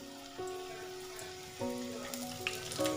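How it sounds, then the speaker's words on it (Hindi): Vegetable chicken rolls fry in hot oil with a soft, steady sizzle, interrupted by a few faint clinks and bursts of louder crackling as pieces go in. "अब मैं आपको फ्राई करके दिखाती हूँ।"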